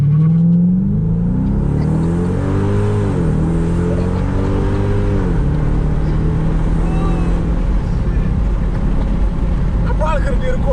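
Car fitted with an 85mm BBK throttle body launching hard from a standstill to 60 mph, the engine climbing in pitch through several rising sweeps with gear-change dips, loud and close inside the cabin, no talking.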